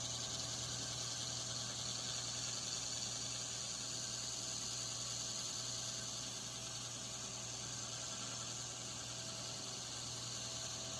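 Steady whir of a belt grinder running as bevels are ground into a flamberg stiletto blade, a constant high abrasive hiss over a low motor hum with no talk.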